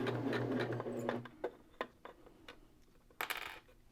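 A sewing machine runs a quarter-inch quilting seam through fabric: a brief burst of humming motor at the start, then faint scattered ticks and taps as the stitching slows and stops.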